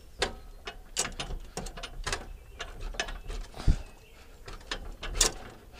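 Metal pins and the locking mechanism of a Motolug Twin TE trailer loaded with two heavy motorcycles are tugged into place, giving a run of sharp clicks, clanks and rattles with one heavier knock near the end.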